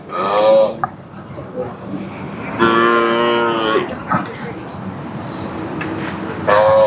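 Cattle low and moo at a busy Tamil Nadu cattle market, with a long drawn-out call in the middle and shorter calls at the start and end, heard close amid crowd chatter and people talking.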